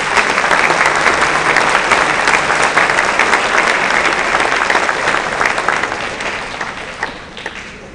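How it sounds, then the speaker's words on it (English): Audience at a concert applauding steadily, a dense wash of many hands clapping at full strength that gradually thins and fades toward the end. "So let's give them a round of applause."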